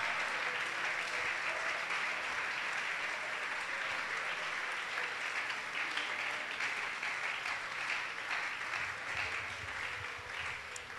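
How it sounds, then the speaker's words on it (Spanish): A church congregation applauds steadily for about eleven seconds, a dense, even wash of clapping that fills the room with only slight swells and no voices standing out. "Dele ese aplauso con alegría."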